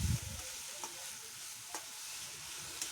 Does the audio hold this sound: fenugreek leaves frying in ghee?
yes